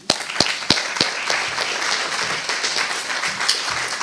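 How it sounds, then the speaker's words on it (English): An audience at a symposium applauds a speaker, starting with a few sharp, distinct claps that blend into steady, moderately loud clapping lasting several seconds. "please give a warm round of applause for Dr. Roberts."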